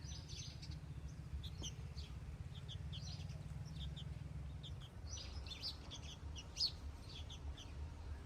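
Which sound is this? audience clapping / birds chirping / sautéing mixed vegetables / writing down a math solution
birds chirping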